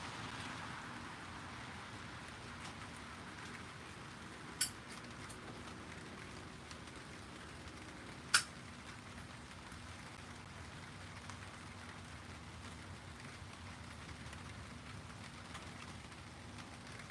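Rain falls outdoors during yard work as a steady, soft, even hiss that continues throughout, broken by a couple of brief sharp ticks.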